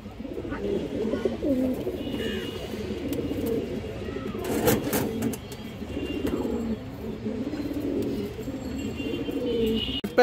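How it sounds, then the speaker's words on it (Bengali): Pigeons coo close by in soft, repeated low throaty phrases that overlap steadily throughout, with faint background noise. "সবজি কবুতর মাশাআল্লাহ, খুবই সুন্দর কবুতর।"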